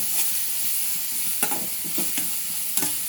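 Grated carrot frying in ghee for carrot halwa gives a constant hiss and sizzle, broken by several short scraping stirs of a spoon against the pan.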